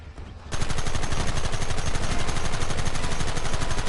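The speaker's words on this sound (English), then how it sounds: "Open fire!" Gunfire in Red Dead Redemption erupting after a quieter moment; rapid, dense volleys of shots from multiple guns, loud and continuous as a sustained firefight.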